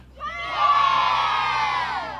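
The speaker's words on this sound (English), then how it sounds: "That was a pretty good cheer." Schoolchildren cheer together in a big burst, a loud crowd of high voices that swells quickly and holds with whoops and shouts before easing slightly at the end.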